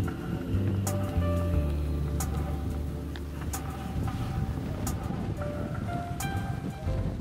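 Strong wind blows across a sailboat at sea, a steady broad rush with intermittent sharp gusts and water noise, close and fairly loud throughout, no voices.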